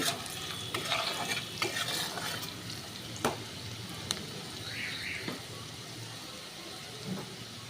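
Oil frying in a pan after turmeric powder goes in for an egg omelette, a soft continuous sizzle broken by a few sharp clicks and scrapes of stirring, close and moderately quiet.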